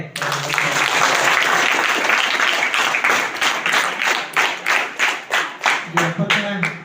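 Students, teachers and guests at a government village school's 75th Republic Day celebration applaud the parade students and their coach. Dense, continuous clapping gives way to separate rhythmic rounds of claps toward the end.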